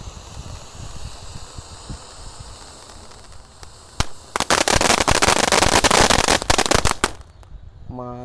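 Firecrackers and fireworks set off for a New Year celebration, a few sharp isolated bangs followed by a loud, dense burst of rapid crackling pops that stops abruptly, with faint background noise before and after.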